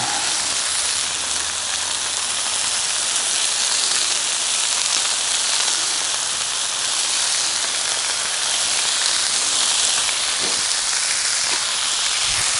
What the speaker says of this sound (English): let's add some bacon.